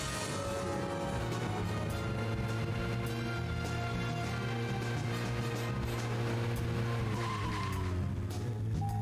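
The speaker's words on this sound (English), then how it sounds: "That handbrake is more effective than I expected." A video-game car's handbrake skid in Deadly Premonition: a long, loud tire squeal with engine drone running steadily underneath, sustained for several seconds without pause.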